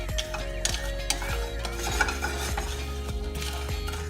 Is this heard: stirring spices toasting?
yes